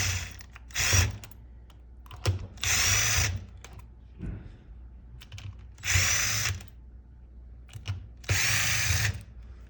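A power drill removes screws from the battery case of a Levy Plus electric scooter in four loud, close whirring bursts, each about a second long, separated by quieter handling and clicking sounds.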